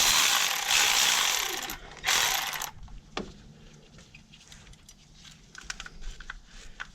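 A hand ratchet loosens a bracket bolt on a Toyota engine, with rapid clicking bursts near the start. Faint metallic taps and handling clicks follow.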